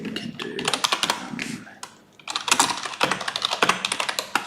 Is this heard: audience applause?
no